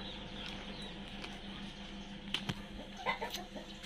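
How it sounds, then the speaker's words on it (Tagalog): A few short clucks from a large chicken in the middle distance on a farm, with scattered small noises over a low steady background hum. "Hanapin natin yung malaking manok."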